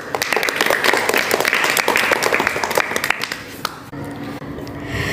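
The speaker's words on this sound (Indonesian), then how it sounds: "Sekali lagi beri tepuk tangan kepada beliau." Audience applause after a song performance, a loud burst of many hands clapping densely for about four seconds, then thinning into scattered claps.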